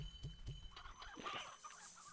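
Chickens cluck in the Slime Rancher video game, a few short low clucks near the start, then a busier, brighter stretch of game sounds behind them.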